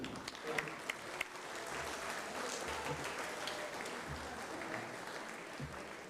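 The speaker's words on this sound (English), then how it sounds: "Why don't we give a big round of applause before we start" A big round of applause fills the room at an alumni induction brunch, steady hand-clapping from the crowd sustained for several seconds at a moderate distance.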